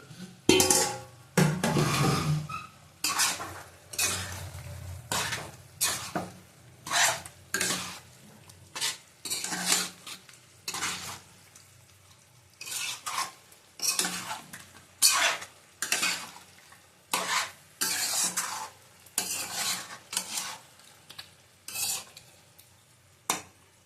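Chicken marinated in yogurt and salt is stirred into fried spice paste in a pan for chicken kosha, with a spoon scraping and clattering against the pan in a steady rhythm over a soft sizzle.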